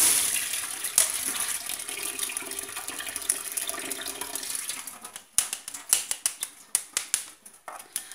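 Cassava pieces lifted out of a kitchen pot of water for a cassava cake: a steady wash of splashing and dripping water, then a run of separate wet knocks and drops as the pieces come out, with no talking.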